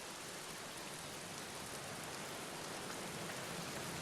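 Steady rain falls in the Black Mirror video game, a dense, even hiss of drops that stays constant and fairly loud throughout, with no voices.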